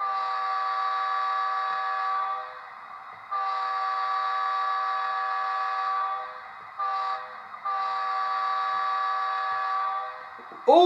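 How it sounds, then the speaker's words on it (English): A Rapido Amtrak F40PH model locomotive's K5LA multi-chime horn blares in long steady blasts, with short gaps and a brief toot between them, ending with a quick rising squeal. "Ooh, it's a K5LA horn."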